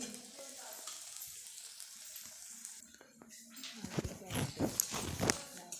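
Onion and tomato sautéing in a pan in a home kitchen, a soft steady sizzle with scraping and stirring that grows louder and busier toward the end, while a person speaks over it.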